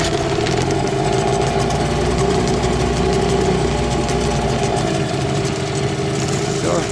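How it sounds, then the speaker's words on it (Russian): Chinese-made boat outboard motor, not started for a week, idling steadily and loudly up close after starting, a continuous rough mechanical drone with rattling knocks throughout. "Смотри, неделю не заводили."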